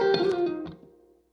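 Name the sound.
blues shuffle guitar lick in C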